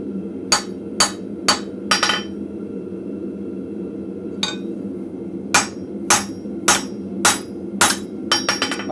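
A blacksmith's hammer rings out on hot steel on an anvil, sharp metallic strikes in a rapid run of four, a lone blow, then a steady series, over a low constant hum.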